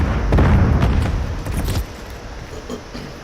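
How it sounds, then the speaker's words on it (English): A Semtex grenade going off in a Call of Duty-style shooter, a loud low rumbling boom that rolls for over a second and then drops to a quieter background. "Throwing Semtex."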